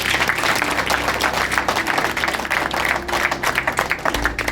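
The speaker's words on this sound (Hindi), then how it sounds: "इनके लिए जोरदार तालियां" An audience gives loud, sustained applause at a Hindi talk on new-year energy, health and peace of mind, a dense wash of many hands clapping without pause for several seconds.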